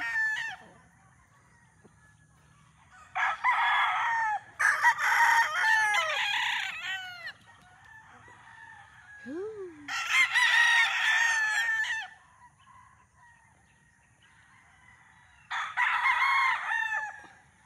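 Gamefarm roosters crow loudly in several long bursts separated by quieter stretches, with a softer single call and faint clucking in between.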